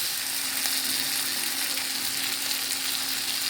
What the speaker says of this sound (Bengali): বেশ কিছুক্ষণ ধরে ভালো করে নেড়ে চেড়ে ভেজে নিয়েছি